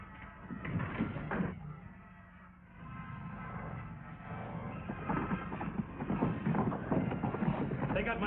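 Horses' hooves clip-clop on the ground as riders set off in an old Western setting, a steady rhythm of beats under dialogue and background music.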